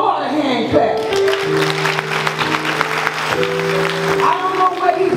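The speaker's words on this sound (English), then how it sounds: "Give the Lord a hand clap." Congregation hand clapping in a Baptist church during a gospel choir anniversary service, steady rhythmic claps under sustained organ or choir tones and a speaking voice.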